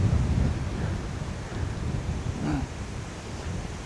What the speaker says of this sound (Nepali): कस्तो यो जाडो महिनामा हावा चलेछ कि पुरै